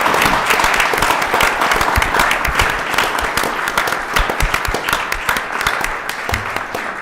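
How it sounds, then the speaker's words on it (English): A village council meeting audience breaks into loud, sustained applause, dense overlapping claps running throughout and tapering slightly toward the end, with no speech over it. "Let's give them a big round of Thank you."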